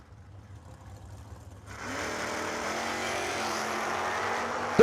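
Drag racing cars at a strip, a Chevelle among them, with a quiet lead-in giving way to a loud, sustained engine roar around the starting line and a sharp burst at the very end.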